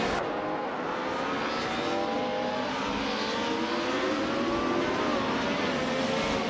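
Race cars roaring along in a race, a dense, steady engine wail with several overlapping tones, fairly loud and continuous from start to finish, with no voices.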